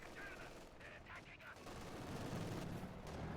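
Machine gun fire in the Company of Heroes 2 real-time strategy game, short bursts of rattling shots in the first half followed by rumbling battle noise, heard at moderate level with no voices.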